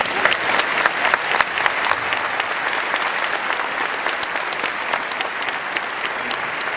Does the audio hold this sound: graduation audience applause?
yes